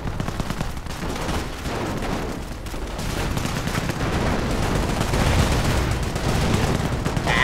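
Dense, continuous gunfire and bursts of automatic weapons from infantry combat in the Company of Heroes Opposing Fronts strategy game, loud and relentless throughout with no talk.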